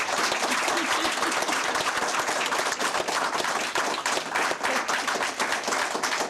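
An audience at a Democratic forum for governor and lieutenant governor candidates applauds steadily, a dense crowd of hand claps sustained at even loudness throughout, with no talk over it.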